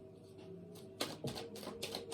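A few crisp riffling bursts of tarot cards being shuffled, close by, over a steady low hum in a quiet room.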